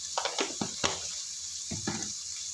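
Water is poured into a cooking pot of sprouted green gram rice, heard as faint, irregular splashes and gurgles close by, with no talking.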